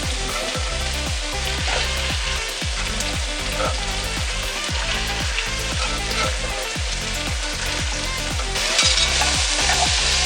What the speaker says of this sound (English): I'm just stirring that around, making sure it all cooks and sautés in the pot right there as well.